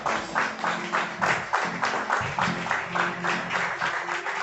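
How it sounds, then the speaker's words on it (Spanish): Church congregation clapping together in a steady, rhythmic beat during a worship service, moderately loud and sustained with a roomy, crowd-filled sound. "denle un aplauso al Señor"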